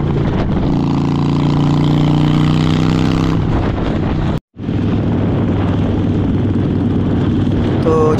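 Harley-Davidson motorcycles, including a Custom 1200, ride in a group along the Jaipur–Ajmer highway, with a loud continuous engine drone and heavy wind rush, briefly cut out once midway.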